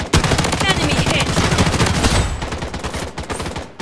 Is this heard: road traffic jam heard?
no